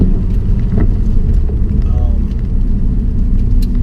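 A 2016 Ford Focus SE engine while driving, a steady low rumble with road and cabin noise, constant and fairly loud, heard from inside the car.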